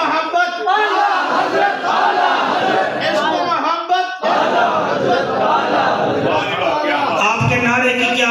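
A large gathered crowd at a religious speech gathering shouts a slogan in unison, a loud massed roar of voices rising and falling in a few sustained waves.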